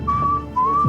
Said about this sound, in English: he whistles the theme to the show